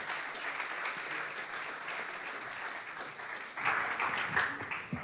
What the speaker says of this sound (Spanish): Un fuerte aplauso para Roberto Corella